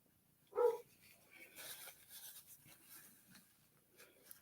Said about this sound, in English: maybe we won't hear birds so much with the barking going on